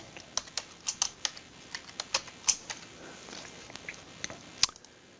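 Irregular clicks of typing on a computer keyboard, close and fairly quiet, in short bursts with brief pauses.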